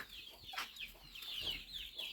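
A hen screeches in a new outdoor poultry enclosure, giving faint repeated high squawks and clucks that rise and fall over a soft background, with no voices.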